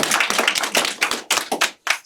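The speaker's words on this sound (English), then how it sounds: "Please give a big round of applause." An audience applauds as Congressman Raja Krishnamurthy is introduced, a dense burst of close hand clapping that breaks into shorter bursts and briefly drops out before a final spurt.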